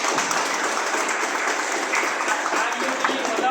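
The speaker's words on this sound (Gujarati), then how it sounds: "આપણે જબરદસ્ત તાળીઓથી વધાવી લઈએ" An audience at a library inauguration breaks into steady, dense applause, many hands clapping together in a sustained wash of sound from start to finish.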